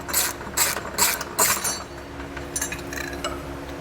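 A hand ratchet fitted with an 11/16 socket clicks in short bursts while removing a metal tab on a 2020 Toyota Highlander, the pawl chattering crisply in close, repeated strokes against a quiet background.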